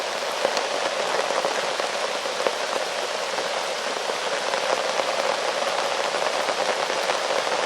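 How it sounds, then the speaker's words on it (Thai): Heavy rain pours down steadily and loudly, a dense continuous hiss of drops hitting surfaces with no voices over it. "ฝนตกหนัก"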